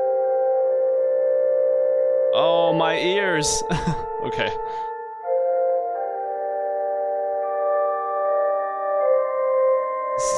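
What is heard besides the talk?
loud organ music from video game Kentucky Route Zero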